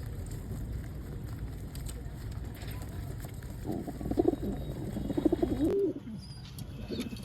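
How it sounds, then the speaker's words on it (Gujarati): Low, throaty cooing from a flock of kept pigeons gathering into their coop rises midway through the clip above a constant hissing outdoor background. "તો તમે જોવો છો કે બધા કબૂતરો ધીમે ધીમે અંદર પુરાવા માંડ્યા છે."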